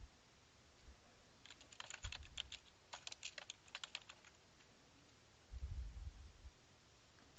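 Quiet clicking of keys on a computer keyboard comes in two quick bursts of typing, with soft thumps at the start and end, close and faint, with no speech.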